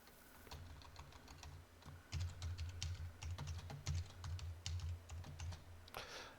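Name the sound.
typing a password on a computer keyboard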